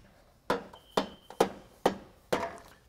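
Rubber mallet tapping aluminum door threshold trim during installation: five dull, firm knocks spaced about half a second apart, close and alone.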